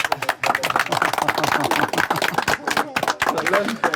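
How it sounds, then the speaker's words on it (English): Prison inmates in Honduras give a round of applause, dense clapping that rolls on steadily throughout, close and loud, with voices mixed in. "That is the least expected round of applause I think I have ever gotten in my entire life."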